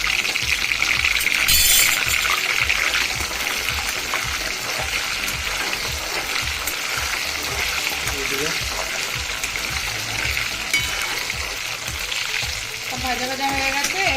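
White sesame, black mustard seeds and curry leaves frying in oil for Gujarati handvo, a dense, steady hiss with crackling pops running close and loud throughout.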